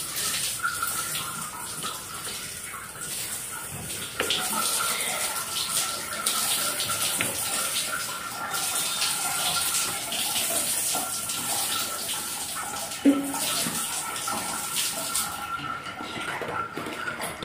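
Water sprayed steadily onto bathroom wall tiles during cleaning, a continuous close hissing splash that runs unbroken, with a brief clunk near the end.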